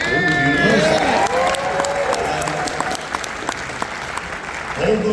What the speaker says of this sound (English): Hold those applause, because it ain't going well.